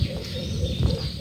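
A pet pigeon coos in low, soft, throaty pulses, several short repeated notes close by in a quiet setting.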